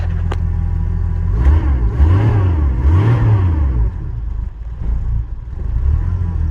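A car engine revs in the -12° cold after a cold start, rising and falling through two swells of revving before dropping back to an uneven, rough run close by.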